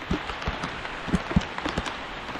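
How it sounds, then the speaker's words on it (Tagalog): Heavy rain falls steadily on a banana plantation, with a dense hiss and scattered louder drops striking broad leaves nearby. "Tudong-tudo ang ulan mga kautol."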